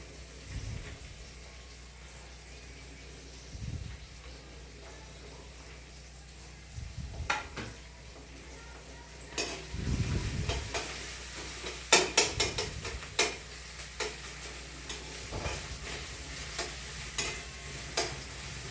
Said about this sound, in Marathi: थोडंसं तेलामध्ये परतून घ्यायचं